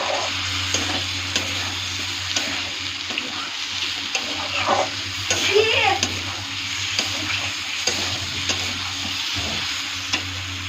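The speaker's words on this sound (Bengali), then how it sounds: "দেখো এখন ওর মধ্যে আমি সয়াবিন ভাজাটা ছেড়ে দিচ্ছি" Fried soybeans tossed into a hot pan sizzle continuously and close by, with stirring scrapes and brief splashy bursts partway through; no one speaks.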